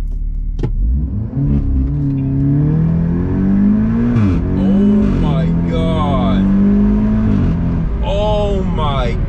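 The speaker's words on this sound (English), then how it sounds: "potentiometer crank fully to the right. Let's give it a launch." An Audi S3, RS3 or Golf R with a Syvecs Haldex controller set to full makes a hard launch, the engine loud and close as it revs and pulls up through several gear changes while people talk and react over it.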